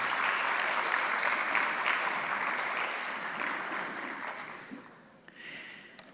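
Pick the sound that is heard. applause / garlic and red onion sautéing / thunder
applause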